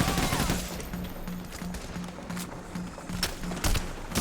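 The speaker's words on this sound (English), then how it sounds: "Who was shooting?" Rapid gunfire in the video game Payday The Heist crackles in dense bursts across the whole stretch, loud and close, with overlapping shots and no clear talk.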